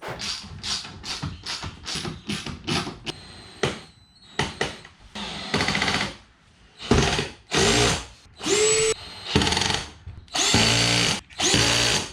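A power tool tightens bolts on a Chrysler 300's ZL1 add-on front splitter with support rods, firing in a rapid string of short whirring bursts, then longer loud runs separated by pauses.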